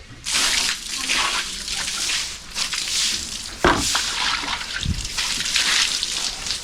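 Water splashes and rushes steadily while an item is rinsed, first in soapy water and then in clean water, with a few louder splashes and thumps along the way.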